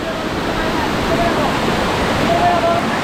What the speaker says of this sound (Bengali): দেখতে পাচ্ছেন এই হচ্ছে মুপুছড়া ঝর্ণা